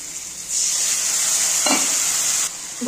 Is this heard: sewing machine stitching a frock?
no